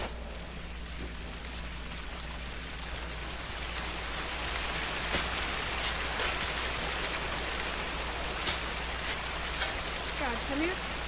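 A waterfall in the video game Sea of Thieves pours as a steady, broad rushing hiss that swells slightly midway, with a low hum beneath and a few faint clicks and tones on top.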